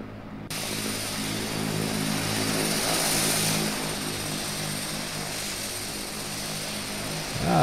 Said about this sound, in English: I hear a plane.